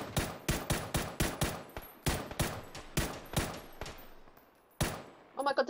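Rapid gunfire in PUBG, a dense burst of sharp shots followed by separate single and double cracks with short gaps, loud and close, ending in a scatter of quieter pops.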